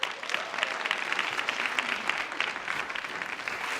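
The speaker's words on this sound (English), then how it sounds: "Let's give them a big round of applause." Audience applause at the World Bank Youth Summit 2018 welcomes a contestant team: dense, steady clapping from a large crowd, continuing throughout.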